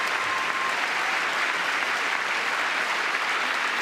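Applause fills a Congress chamber during a presidential address to a joint session, a dense and steady roar of many clapping hands that holds at an even level throughout.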